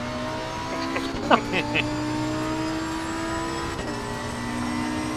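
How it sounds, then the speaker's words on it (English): Race car engine drones steadily through a racing video game at Mount Panorama, a constant mid-level whine with brief louder blips near the start, while people talk over it. "I can't hear you over engine noise"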